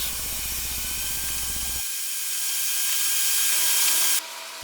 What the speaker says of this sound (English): I've got a stop block set up to my right there, and just using my table saw sled to cut it